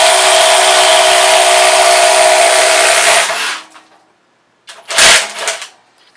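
A Kobalt XTR power tool runs loud and steady for about three seconds in a speed test, then cuts off, followed by a brief second burst of whirring after a short silence.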